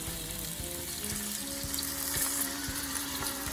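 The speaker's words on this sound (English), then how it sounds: "Now we're gonna pour in this turkey stock." Turkey stock poured into a pot of sizzling onion, garlic and ham hock, a steady close frying hiss with liquid splashing and bubbling, a few sharp clicks and clatters, no talk.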